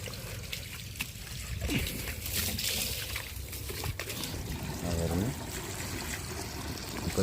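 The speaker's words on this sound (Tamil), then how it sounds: "இப்போ தண்ணி ஃபில் பண்ணிக்கிறோம்." Water is poured to fill a container on a natural-method cucumber farm. A moderate, continuous trickling pour runs the whole time over a busy outdoor background.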